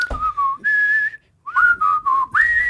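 Several clear whistled phrases, some sliding and some held, broken by short pauses and one longer gap of silence, loud and close with no voices.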